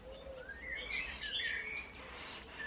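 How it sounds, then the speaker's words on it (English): Several small birds chirp and tweet close by in short bright bursts, overlapping calls rising and falling over a quiet outdoor background. "God, listen to those birds"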